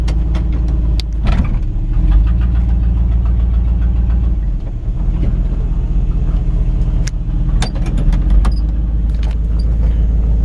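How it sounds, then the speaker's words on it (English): A 1955 Ford F-100 truck engine idles with a deep, steady rumble and rapid ticking pulses from an exhaust manifold leak, with occasional sharp clicks and knocks over the low drone. "one thing this truck does have is a little bit of an exhaust leak out of one of the exhaust manifolds"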